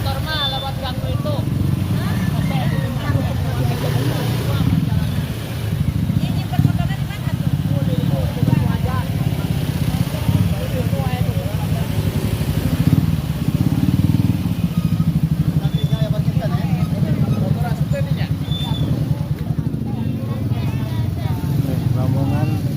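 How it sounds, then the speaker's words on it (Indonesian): A motorcycle rides through a narrow village alley during a traditional Sundanese wedding procession, its engine droning steadily and fairly close for over twenty seconds while people talk over it. "Lewat itu motor mah lewat gang itu."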